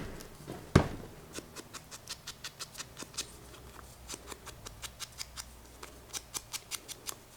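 Scissors snip through book-page paper tags in a steady run of crisp, close cuts, about two per second, after one louder knock near the start; no one speaks.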